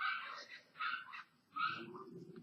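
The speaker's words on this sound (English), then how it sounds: "That would be my dog out there again." A dog outdoors gives several short barks and yips in quick bursts at a distance, separated by brief pauses, with faint bird calls and low background noise.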